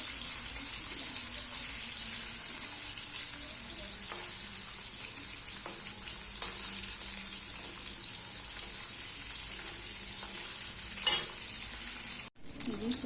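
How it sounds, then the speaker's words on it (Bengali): A steady, high sizzle of paneer frying in hot oil carries on throughout, with occasional faint clinks and a brief thump near the end. "পনিরটা নরম থাকে লাল লাল করে ভেজে নেবো"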